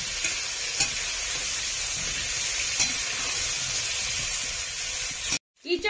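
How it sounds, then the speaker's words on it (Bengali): Raw jackfruit fries in hot oil with turmeric powder in a pan: a steady, dense sizzle and hiss with a few stirring scrapes. The sound cuts off abruptly near the end, followed by brief rustling. "এবার ইঁচড়টাকে আমি ভালো করে ভেজে নেব।"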